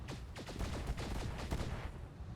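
Rapid bursts of video-game gunfire from enemy units, a dense fusillade of overlapping shots crackling close and loud for a couple of seconds before tapering off, with no voices.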